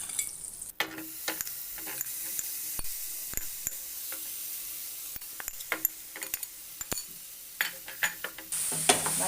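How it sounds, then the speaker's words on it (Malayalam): Marinated paneer goes into a hot pan and is stirred, with a steady sizzle under repeated scraping strokes of a spoon against the pan, close up and with no voices. "പനീർ ഇട്ട് കൊടുക്കാം."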